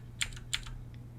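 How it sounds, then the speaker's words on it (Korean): Two quick key presses on a computer keyboard, with a fainter third tap, while working in 3ds Max 2020. Crisp and close over a low steady hum. "키보드에 G를 누르면 없어집니다"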